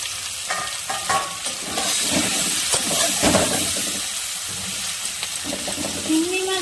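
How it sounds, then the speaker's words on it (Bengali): Giant freshwater prawns sizzle steadily in hot oil in a pan, a constant loud crackling hiss with occasional pops and stirring scrapes. "বাকি মাছগুলো ভেজে নিই।"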